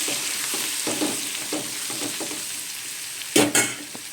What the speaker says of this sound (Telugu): పచ్చిమిర్చి ఇలా చూస్తున్నారు కదా మంచిగా ఫ్రై అవ్వాలి